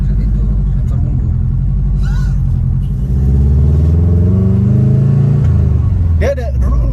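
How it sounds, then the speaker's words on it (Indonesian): A Subaru Impreza WRX turbo boxer four-cylinder engine gives a loud, close, steady low rumble that swells slightly partway through, with people talking over it. "derungan boxer 4 silinder"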